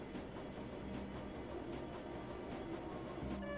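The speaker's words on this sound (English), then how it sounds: "The train is speeding towards the Krezzer station." A train speeds along rails in the game Shadowrun: Dragonfall, a faint steady rumble with soft rhythmic clatter and a brief tonal whine near the end.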